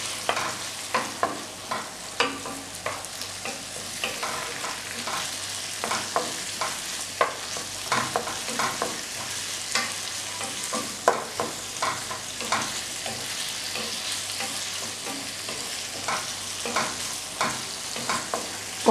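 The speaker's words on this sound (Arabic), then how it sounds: "وغادي نخليهم يتشحروا" Egg and potato gratin ingredients fry in a pan as a steady close sizzle, with frequent soft scraping taps from stirring and no voices.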